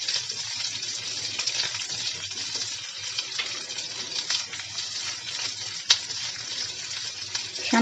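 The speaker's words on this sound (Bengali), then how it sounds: "গাজর আর ক্যাপসিকাম 2 মিনিটের মতো একটু ভেজে নিব।" Carrots with red and green capsicum frying in a pan, a continuous close hiss and sizzle with occasional stirring and one sharp clink near the end, no talking.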